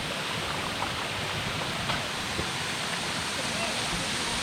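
A hidden waterfall near Asangaon, swollen after rain, gives a steady dense roar of rushing water, loud and continuous, with a voice talking faintly under it.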